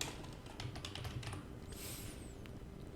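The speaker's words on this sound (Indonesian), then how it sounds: "kita ketik aja misalnya perpustakaan" Fingers tap out a quick burst of keystrokes on a computer keyboard, faint and close, followed by a short pause and a couple of lone clicks.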